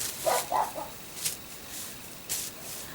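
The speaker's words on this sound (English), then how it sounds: "Dogs barking." Distant dogs barking outdoors, a few short, faint yaps spaced across the moment against a quiet background.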